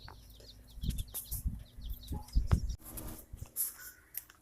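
Egg-layer chicken hatchlings, about a month old, chirping in a brooder: scattered high peeps and small scuffles with a few louder bursts, fairly close and moderately quiet.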